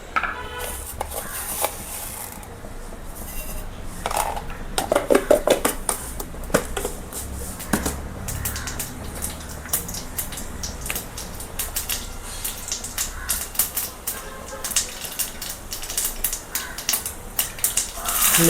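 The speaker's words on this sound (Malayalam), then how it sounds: "കുറച്ച് കടുക് ഇട്ട് കൊടുക്കാം." Mustard seeds hit hot oil in a clay pot for a country-style dried fish curry, spluttering in scattered crackles and pops that cluster early, then thin into irregular ticking at moderate loudness.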